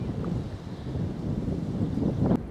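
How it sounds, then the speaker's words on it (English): Bitter wind gusts steadily across open arable farmland in East Anglia, a continuous low rushing roar buffeting close to the microphone for the whole stretch, with no voices. "Wind's picking up, very bitter."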